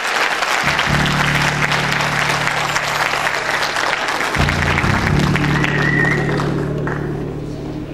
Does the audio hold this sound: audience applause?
yes